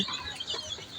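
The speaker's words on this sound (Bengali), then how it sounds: "ওইখানে আমার আরে কতগুলো মুরগি আরও বাচ্চা দেখেন" A hen clucks close by among her chicks in a backyard poultry setting, soft short clucks running steadily through a brief moment with no talk.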